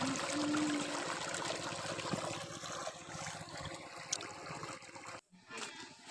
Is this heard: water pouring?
yes